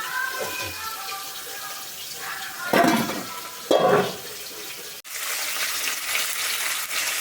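Fish fries in a pan with a continuous soft sizzle. Two brief louder bursts of sound rise over it midway, and the hiss carries on afterward.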